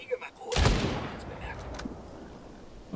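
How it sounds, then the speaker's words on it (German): A single heavy armor-piercing sniper rifle shot in the video game Ghost Recon Breakpoint, a loud sharp crack with a long rolling echo fading away, with faint voices nearby. "Hab nicht gedacht, dass die panzerbrechenden Schüsse so krass sind."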